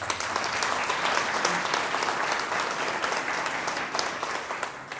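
Applause from the audience at an art exhibition opening in Gniewkowo, a thick, even wash of many people clapping that holds steady and fairly loud throughout.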